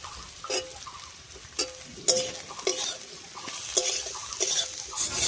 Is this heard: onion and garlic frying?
yes